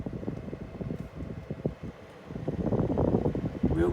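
A late-2000s Fridgemaster FM168 13-inch mini tower fan running on its lowest speed, giving a steady, close, low whooshing airflow with a faint rumble and gentle fluctuations.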